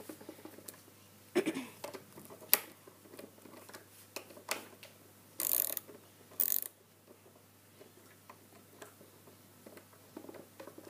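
A skateboard wheel nut being tightened, small metallic ratcheting clicks and bursts of spinning, close and fairly quiet, with irregular pauses between turns and no talking.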